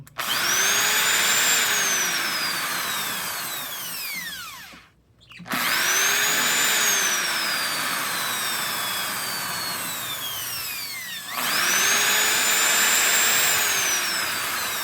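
Power drill bores into a motorcycle elbow cover in three long bursts, high whining pitch rising and falling as the bit loads and spins down, loud and close with short pauses between runs.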